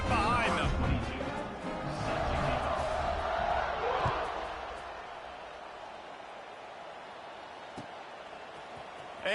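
A large football stadium crowd roars steadily at kickoff of an SMU vs FSU game, a broad, dense wash of distant voices that swells and then eases slightly, with an announcer talking over it.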